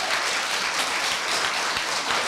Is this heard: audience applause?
yes